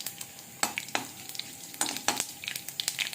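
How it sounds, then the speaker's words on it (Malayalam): Mustard seeds pop and crackle in hot coconut oil in a pan, with sharp, irregular bursts over a soft sizzle, close and fairly quiet. "ഇനി നമുക്ക് കടുക് ഒന്നിട്ട് ഫ്രൈ ആക്കി എടുക്കാം."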